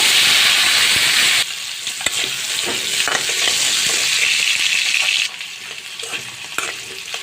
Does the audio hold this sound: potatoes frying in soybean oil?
yes